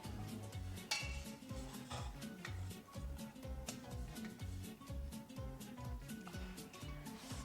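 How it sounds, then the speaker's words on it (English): Penne pasta being stirred in a pan with tomato sauce, giving soft, steady scraping and clinking of utensil against cookware in a rhythmic pattern, faint and without talk. "Now we're just gonna mix so every single penne is coated"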